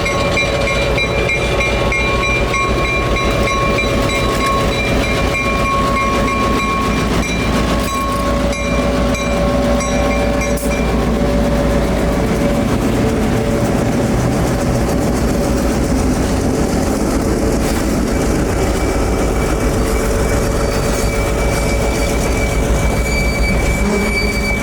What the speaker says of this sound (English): Engineer John would waste no time getting the CF7-204 back up to speed and taken off southbound